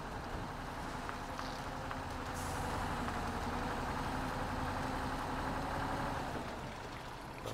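Truck engine idling in the MudRunner off-road game, a steady low diesel rumble with a broadband rattle that swells slightly partway through and holds continuously throughout.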